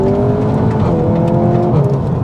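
SEAT Leon Cupra 300 hot hatch under hard acceleration, a loud close engine roar climbing steadily in pitch through the revs with no talk.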